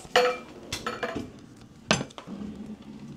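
Plates, saucers and cutlery in a hotel room drawer give several sharp clinks and clatters at irregular moments, with quiet handling noise in between.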